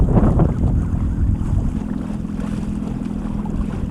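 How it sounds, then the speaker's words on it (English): Steady wind buffets the microphone with a low, continuous roar, and water sloshes faintly around an Old Town Sportsman 106 boat with a Minn Kota motor beneath it. "It's pretty windy."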